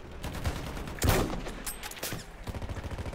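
Rapid automatic gunfire in the World War I shooter Battlefield 1, with sharp bursts and a heavy blast near the start, then steady rattling fire toward the end amid battlefield noise.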